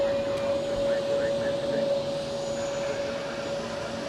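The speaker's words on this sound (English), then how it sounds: "here we have the Swiss A321neo getting ready to taxi" A Swiss Airbus A321neo jet idles while getting ready to taxi at Zurich Airport, a steady engine drone with a sustained whine, moderately loud and continuous, with a voice talking faintly over it.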